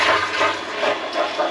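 Water churns and sloshes inside the tank of a JFC Agri milk kart as its mixer runs, a continuous gurgling swirl with gentle surges and a low motor hum underneath.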